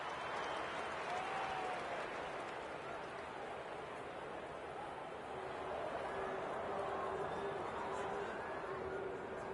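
Loud stadium crowd from the AFL 26 football video game roars and applauds after a goal, a dense, sustained wall of cheering that fills the whole stretch.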